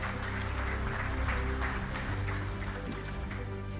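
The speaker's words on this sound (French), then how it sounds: "sous vos applaudissements" Sustained applause from a round-table audience welcoming panelists at a conference on core business transformation, an even wash of clapping throughout with a low steady hum beneath.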